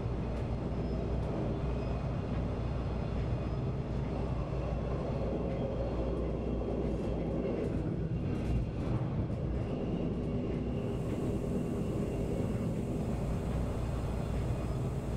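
A train at a station gives off a steady, continuous rumble that holds at an even loudness throughout, with no voices.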